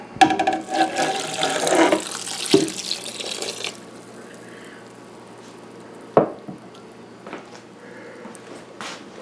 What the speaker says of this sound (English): So this now gets the other ingredients added to it and cooked. 3 cups of white vinegar